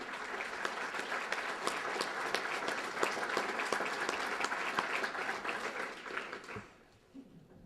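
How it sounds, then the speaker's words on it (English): An audience at the Woodburn Distinguished Service Awards applauds past award recipients, a dense, steady round of clapping that fades out near the end. "Let's give all of them another round of applause."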